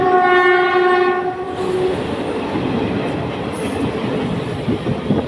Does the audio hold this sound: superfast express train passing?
yes